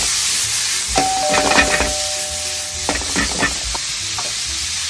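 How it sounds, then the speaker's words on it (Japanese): Fresh wagyu beef liver and ginger stir-frying in sesame oil over high heat, a loud hiss of sizzling with bursts of clattering pan and spatula noise and a brief sustained tone, no talking. "でここにさっきのレバー入れて、これ強火でやってください。"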